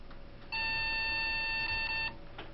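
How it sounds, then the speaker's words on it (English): A PC motherboard gives a single long power-on self-test beep of about one and a half seconds, a clear steady electronic tone over low background hiss. "One long and two short."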